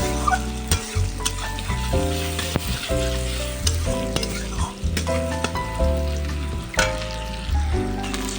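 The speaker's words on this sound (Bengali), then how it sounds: "এখন তেল গরম করে দিয়ে একটু জিরে ফোড়ন দিয়ে একটু পেঁয়াজ কুচি দিয়ে ভেজে নেবো লাল লাল করে" Chopped onion fries in hot oil with cumin seeds, giving a loud, close, steady sizzle broken by repeated scraping and clattering stirs, with no voices.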